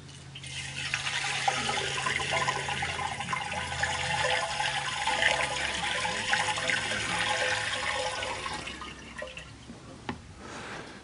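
Water pouring into a container while making raspberry cream ice: a continuous loud rushing stream lasting about nine seconds, then stopping, followed by a few drips and small splashes.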